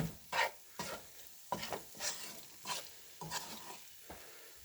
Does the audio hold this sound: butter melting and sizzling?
yes